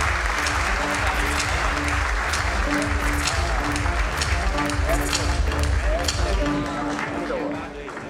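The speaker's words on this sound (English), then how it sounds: "Big round of applause for Sri Mukesh Ambani," Big round of applause from a large audience at a jewellery industry awards gala, as a guest of honour is welcomed: steady, loud massed clapping throughout, with a sustained tone and speech running underneath.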